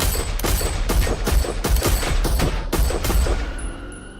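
Rapid gunfire from a man shooting out of a Cadillac, roughly a dozen sharp shots in a steady burst of evenly spaced cracks, loud and close, ending in a fading tail.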